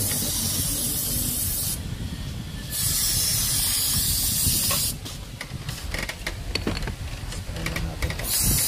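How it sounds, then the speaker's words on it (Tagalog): Aerosol contact cleaner sprayed onto the turbo actuator of a Nissan Terra during repair for low power, with several long hissing bursts separated by short pauses, loud and close. "Spray muna natin."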